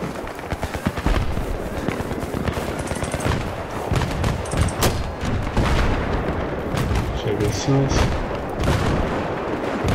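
Rapid bursts of gunfire in the video game Battlefield 3 multiplayer, on the Back to Karkand map, crackle almost nonstop, with booms and scattered shots over a dense, noisy backdrop, and voices talking faintly underneath.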